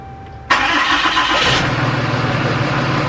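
Tow truck engine cranking and catching after hours of repair work, a sudden loud start that settles into a steady, rough idle, close by with no talk.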